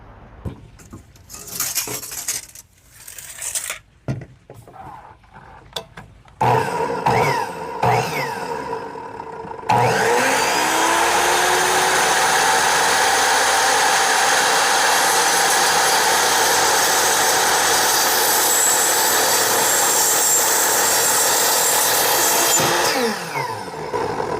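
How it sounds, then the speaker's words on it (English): A saw fitted with a 100-tooth blade cuts through aluminum extrusion with a loud, steady high-pitched whine lasting well over ten seconds, preceded by scattered clanks and handling noises as the blade is changed and the piece is set up. "So we're gonna go ahead and replace the blade, and let's go cut the aluminum"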